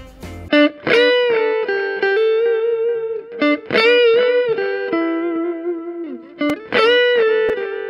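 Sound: guitar delay effect solo

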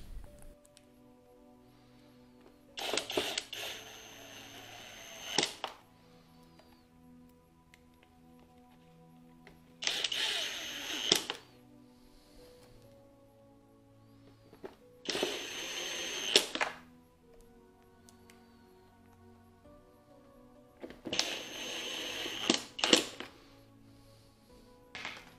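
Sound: installing Phillips screws on refrigerator evaporator fan cover

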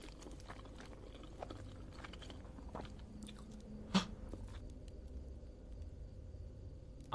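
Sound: person eating loudly in a horror video game (Fears to Fathom)

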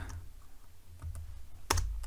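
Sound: pressing keys on a computer keyboard

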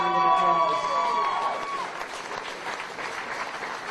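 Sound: audience applause

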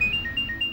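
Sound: phone ringing

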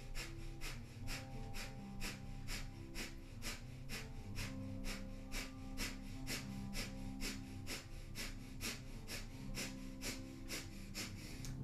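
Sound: rapid navel-pumped breathing in Sat Kriya yoga

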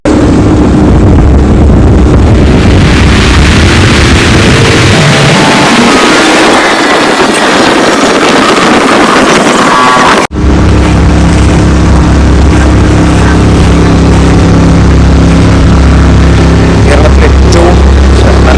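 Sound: water metro boat moving at speed

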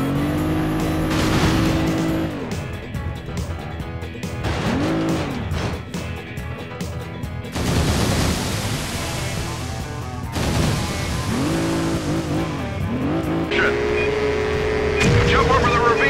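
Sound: car accelerating for a jump in video game Stuntman (PS2)

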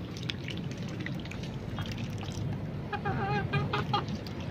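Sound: rooster clucking

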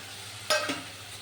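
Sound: spices frying with onion and garlic in a pan

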